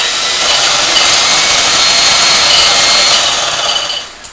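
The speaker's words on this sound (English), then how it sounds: "Okay, I am whisking my egg yolks and cream." Egg yolks and cream are whisked briskly in a bowl, giving a bright, continuous scraping hiss close up for about four seconds before it tapers off, with no talking.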